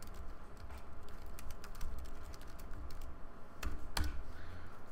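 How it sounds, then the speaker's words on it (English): Fingers type steadily on a computer keyboard, close to the mic and alone, with rapid uneven clicks and a couple of sharper, louder key strikes near the end. "I start typing."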